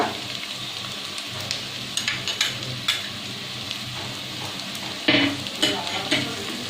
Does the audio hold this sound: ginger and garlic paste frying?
yes